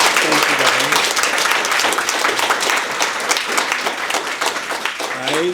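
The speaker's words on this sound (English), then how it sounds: "let's give them a round of applause, please." A youth mental health event audience claps for teen speakers, a loud, sustained round of applause from a crowd with voices and cheers mixed in throughout.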